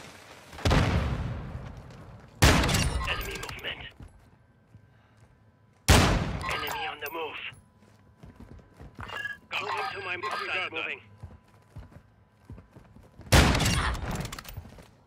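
Gunfire in the video game Call of Duty Modern Warfare 2 during a team deathmatch sniper match: several loud, sharp shots spaced seconds apart, each followed by rumbling decay, with game radio chatter between them.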